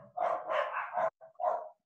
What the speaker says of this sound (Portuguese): É aqui em casa, as cachorrinhas latindo.